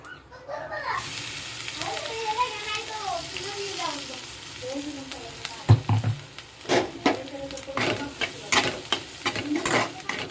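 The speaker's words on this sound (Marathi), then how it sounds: "मस्त तेलामध्ये आपली अशी थोडीशी जोपर्यंत आपली क्रिस्पी फ्राय होत नाही ती आपल्याला तेलामध्ये मस्त चटणी करून घ्यायची" Peanut and green chili chutney fries in oil in a kadhai with a continuous sizzle, while a spoon stirs and scrapes against the pan in irregular knocks. Someone speaks over the cooking.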